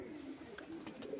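Pigeons at a sale coo in a soft, low, continuous murmur. The sound is faint and brief, with no voices.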